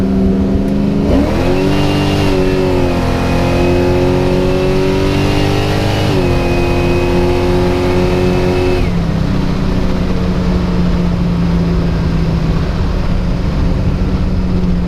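Chevrolet Camaro pulling hard under manual shifting, a loud rising engine roar that climbs through the revs, drops at a gearchange, climbs again, then settles into a lower steady drone, heard from inside without talk.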